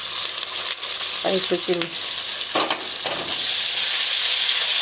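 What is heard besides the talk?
spice paste frying with browned onions in pan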